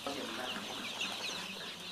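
Chickens cluck on a large poultry farm holding several thousand birds, a busy overlapping chorus of clucks and calls heard at moderate distance, fairly quiet and continuous throughout.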